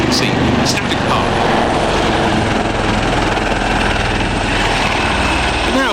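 Two Royal Navy Wildcat helicopters flying at an air display, their loud continuous rotor thrum and engine roar filling the air while a commentator talks over it.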